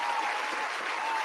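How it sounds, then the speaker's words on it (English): A crowd claps steadily in a dense, even burst of applause. "Round of applause for Malik Monk."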